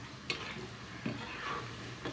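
Carrot and green gram pakoda fry in hot oil with a steady, faint sizzle, and a few soft clinks from stirring stand out now and then.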